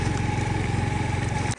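A motorcycle engine idles and runs close by in a rhythmic, steady chug, loud and continuous before cutting off abruptly at the end, with no talking.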